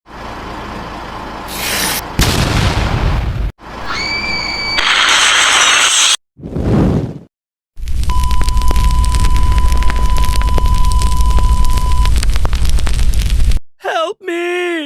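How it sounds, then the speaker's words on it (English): Crashing plane exploding, a sequence of loud blasts and bursts broken by abrupt cuts, with a long roaring rumble, a steady tone and swooping warbling effects at the end, mixed with voices. "A huge explosion ended everything"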